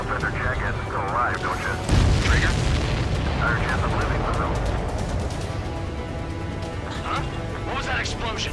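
Explosions roar during an Ace Combat 7 combat mission: a heavy boom hits near the start and rumbles on under continuous jet-engine roar, while voices talk over the din.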